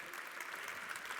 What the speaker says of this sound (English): Let's have a round of applause to our speakers,